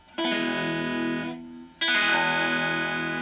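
Two bright, distorted electric guitar chords picked between the bridge and bridge pickup ring out, the first sustaining over a second before fading, the second struck sharply and held.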